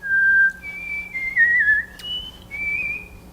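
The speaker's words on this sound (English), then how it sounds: "Is that you? Is that you whistling?" A person whistles a sliding, warbling tune in a few connected phrases, clear and close, with no talking over it.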